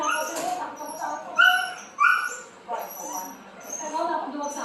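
A dog gives several short yips and whimpering cries in uneven bursts, fairly close, with pauses between calls.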